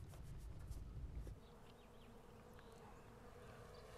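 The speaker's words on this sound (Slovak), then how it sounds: "Johnovi Millerovi znie bzukot včiel ako šušťanie peňazí" Honeybees buzz in a steady, dense drone around hives kept by a contract beekeeper, with a louder low rumble in the first second before the swarm hum settles and continues evenly throughout.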